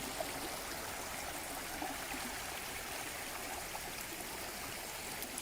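Continuous rushing of a flowing stream, steady and full, water splashing over rocks close by with no other sounds.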